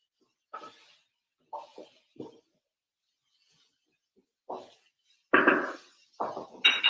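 Chunks of cauliflower are stirred around in a cooking pot. A spoon gives short, scattered scrapes and soft clinks up close, with quiet pauses between them and a livelier burst near the end.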